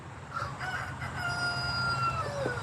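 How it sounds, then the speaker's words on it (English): A rooster crows a long cock-a-doodle-doo outdoors, its sustained call carrying moderately loud over faint ambient noise, with no talking. "gave us a cock-a-doodle-doo there"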